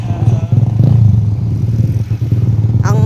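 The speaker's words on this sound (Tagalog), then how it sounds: "Ang motor lang namin yung maingay guys." A motorcycle engine drones loudly and steadily up close while riding on a potholed rural road, with rattles and clatter from the bumps.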